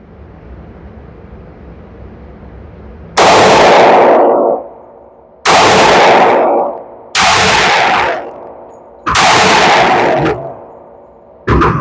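Four loud, sharp gunshots from a Sig Sauer P365 AXG Legion 10mm pistol crack out at irregular intervals of about two seconds, each with a brief ringing tail, and a fifth shot cuts in at the very end.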